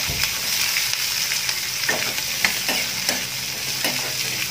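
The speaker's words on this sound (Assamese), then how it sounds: "এতিয়া মই ইয়াত দি দিম কাটি লোৱা পিঁয়াজকেইডোখৰ, লৰাই দিম ভালদৰে।" Chopped onions frying in a pan hiss in a continuous bright sizzle while a utensil stirs them in repeated soft scrapes, close and steady throughout.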